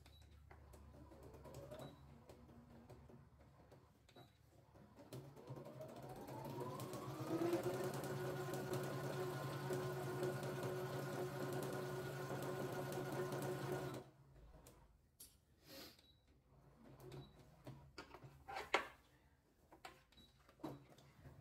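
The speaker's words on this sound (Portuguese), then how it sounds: "E aqui eu vou costurar com um pé de máquina." Sewing machine with a presser foot stitching fabric lined with nylon for a bread basket, a steady whirring run of several seconds that rises to speed, then stops, followed by small handling clicks.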